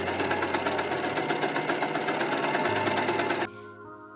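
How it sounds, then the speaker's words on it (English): Overlock sewing machine stitching the edge of dress shirt fabric, a fast, steady buzzing run that stops abruptly near the end. "And of course, we need to overlock."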